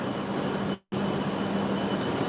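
Interior of a Hokuriku Shinkansen Kagayaki high-speed train, a steady rolling rumble and hiss broken by a brief total dropout, with no talk.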